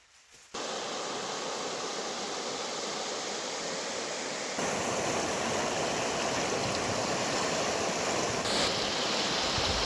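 The Aspart stream pours into the Pyzha river in the Altai Mountains, a steady, dense rush of flowing water close by that continues unbroken and grows slightly louder midway.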